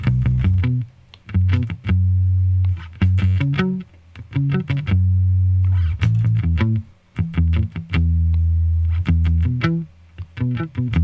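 A distorted electric bass plays a repeating root, fifth and octave line from a song, punchy and loud, with short gaps between phrases and no voices.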